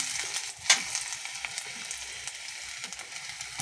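Garlic and ginger sizzle in a hot frying pan with a steady, fairly loud hiss. A single sharp crackle pops out early, and no one speaks.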